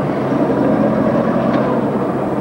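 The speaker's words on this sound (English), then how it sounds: "That's the engine being goosed and re-goosed." A boat engine revs steadily while the boat docks into a slip, a continuous low rumble close by with wind noise and no talking.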